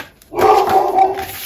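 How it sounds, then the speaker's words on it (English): A dog barks and whines in a short, continuous burst, moderately loud and close, after a brief quiet start. "I don't know what she's barking at."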